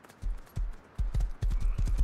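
Horse hooves clip-clop in the video game Rust, a series of close, distinct thuds in uneven pairs and clusters that quicken toward the end as the horse starts moving.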